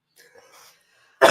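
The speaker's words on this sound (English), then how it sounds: "Hopefully you're not coughing like I am." A single harsh cough bursts out at the end after a moment of faint background sounds.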